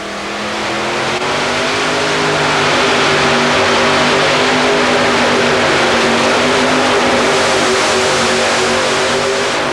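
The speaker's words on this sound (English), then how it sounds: "He has 4 Chevrolet 454 cubic inch engines" A modified pulling tractor powered by four Chevrolet 454 cubic inch engines roars at an indoor tractor pull, a loud sustained drone that climbs and holds at full power throughout.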